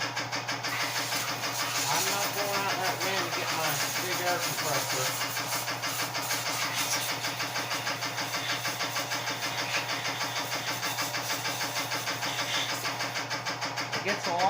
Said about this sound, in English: I am going to blow this with an air compressor